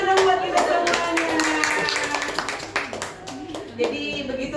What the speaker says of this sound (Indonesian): Ya, tepuk tangan dong buat kita semuanya.